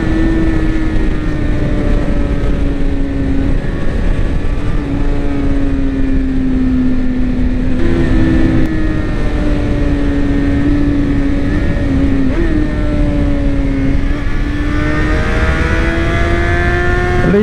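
Honda CBR 600 RR 2007 motorcycle leaned through a series of corners, its high-revving inline-four engine droning steadily with pitch rising and falling between bends, heard continuously over wind rush.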